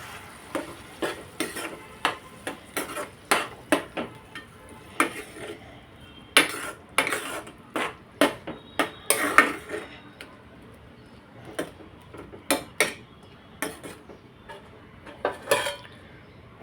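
Tomato purée and vegetables stirred in a pan with a spoon, giving repeated scraping and clinking knocks against the metal at an irregular rhythm, close and fairly clear, with a faint sizzle underneath and no talk.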